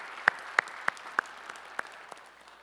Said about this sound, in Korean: 우리 다시 한번 뜨거운 감사의 박수 하시겠습니다